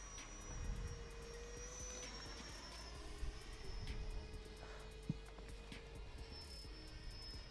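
A Freewing 70mm F-22 Raptor RC jet flies overhead with a steady, faint whine that rises and dips as it turns, carried over a constant low rumble.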